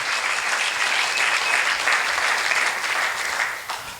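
A church congregation claps together in sustained, dense applause that fills the room and tapers off slightly at the end.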